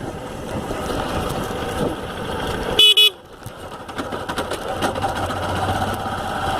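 A motorcycle rides over a dusty, potholed road in Cocalzinho de Goiás, its rough engine and road rumble steady and close, broken by a sharp loud burst partway through before the noise resumes.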